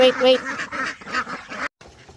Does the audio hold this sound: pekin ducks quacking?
yes